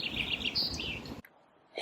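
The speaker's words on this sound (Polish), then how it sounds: "w parku ptaszki pięknie śpiewają" Small songbirds in a park chirping and tweeting in quick bright bursts for about a second, fairly close, before the sound cuts to near silence, with no voices.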